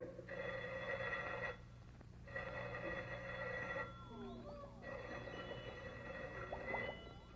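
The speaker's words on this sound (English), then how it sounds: "Someone answer the damn phone!" An old-style telephone bell rings in repeated bursts with short pauses between, over a low hum and faint background music.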